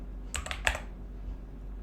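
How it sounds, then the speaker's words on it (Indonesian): A short burst of quick, soft keystrokes on a computer keyboard, typing a keyword into a search bar, with a few clustered clicks and then quiet room hum. "dapat mengetikkan kata kunci Maintenance pada search bar"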